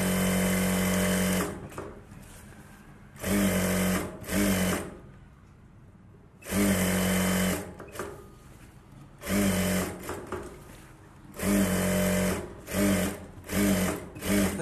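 Up close, a sewing machine stitches a Bharatanatyam dance costume in repeated short bursts, its loud whirring runs alternating with quieter handling pauses.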